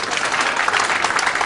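A brief burst of dense clapping from a congregation at a church outreach anniversary, loud and steady for just over a second.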